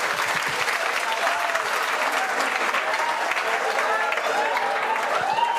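Audience applause at a public gathering, a dense and continuous clapping from a large crowd that holds steady and loud the whole time, with no break.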